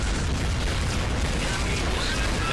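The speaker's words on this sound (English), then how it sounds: "Destroy ships and there's like a ricochet effect on the other ships as well." Spaceship explosions in the space strategy game Imperium Galactica 2 Remastered rumble as dense, continuous booming blasts, loud and noisy throughout with no talk over them.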